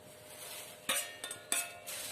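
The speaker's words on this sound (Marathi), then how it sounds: "असं परतून घ्यायचं." Fried peanuts and coconut slices being stirred into puffed rice chivda in a pan over low heat, a few short scraping clinks of the spoon against the pan over a soft steady background.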